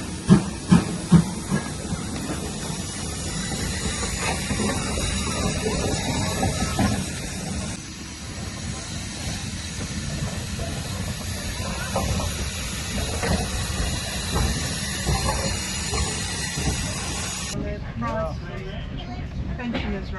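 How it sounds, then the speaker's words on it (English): Steam hissing and rumbling from a steam train at Haworth Station on the Keighley and Worth Valley Railway, a continuous loud roar with mechanical clanks, while people talk nearby. "We are here at Haworth Station waiting for our steam train to arrive."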